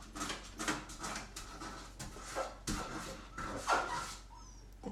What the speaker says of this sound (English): The dogs are being so nuts right now.